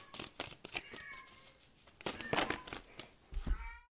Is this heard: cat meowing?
yes